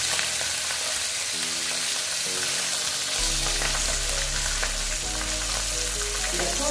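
Pabda fish hit hot oil in a pan and sizzle loudly and steadily, a continuous close frying hiss with low steady tones beneath and no voices.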